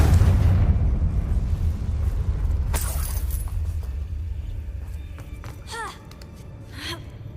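A Confringo fire-blast spell from the video game Hogwarts Legacy, a booming explosive rumble that decays over several seconds, with a brief whoosh midway and faint chimes and magical tones trailing near the end.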